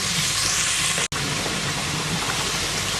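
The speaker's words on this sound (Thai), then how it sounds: "ก็ผัดไว้แล้วนิดนึงแล้วก็จะใส่กระเทียม ผัดกั้หอม" Garlic and shallots sizzle steadily in a hot pan while being stir-fried, a dense, loud, continuous hiss close by, broken by a single very brief dropout near the one-second mark.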